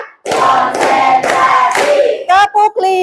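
Schoolchildren clap together in a classroom concentration pattern, a run of loud, dense group claps followed by a few short separated bursts, with the class voices mixed in.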